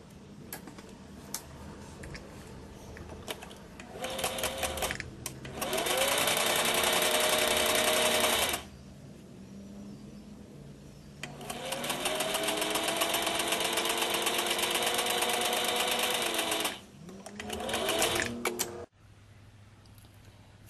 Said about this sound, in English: Now I'm going to carefully sew these and be careful not to sew it through the elastic